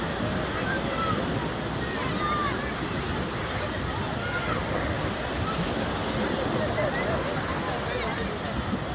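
Beach ambience at Saidia, Morocco: continuous wash of waves and wind noise forming a steady broadband roar, with faint distant voices and a person speaking over it.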